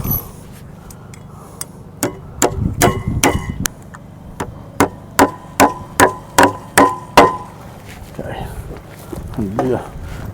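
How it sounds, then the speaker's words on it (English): A hammer nails a wooden pole barn post in place on a building site, a close, loud series of sharp evenly spaced blows in two runs with short pauses, and someone talks briefly near the end. "we're going to nail it in place."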